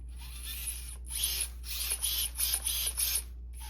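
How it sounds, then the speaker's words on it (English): Injora Ascent18 RC crawler transmission with motor and drive shaft spinning, a thin high-pitched electric whine that pulses in short bursts over a steady low hum, faint and close. "And there you can see the motor compared to the drive shaft spinning."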